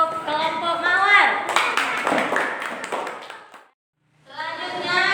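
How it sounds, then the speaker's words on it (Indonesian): Applause in a third-grade classroom for a student group after its presentation, a burst of clapping in the middle, with children's voices talking before and after it. "Beri tepuk tangan untuk kelompok Mawar."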